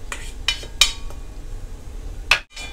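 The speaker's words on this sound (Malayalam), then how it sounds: "ഞാൻ ഈ തേങ്ങ മൊത്തം ഇപ്പോൾ ഇതിലേക്ക് ഈ മിക്സിയുടെ ജാറിലേക്ക് ഇട്ട് കൊടുക്കുകയാണ്" Grated coconut being tipped into a mixer jar, heard as a few sharp clinks and taps of a spoon or utensil against the jar, close and separate, with quiet pauses between.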